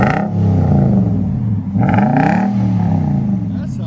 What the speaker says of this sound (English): That sounds really nice. I like it. Dynomax race bullet. Nissan Titan.